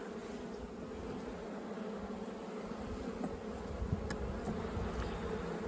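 Honey bees hum continuously around a small hive built inside a shed, a dense close buzzing drone with a few individual bees flying by.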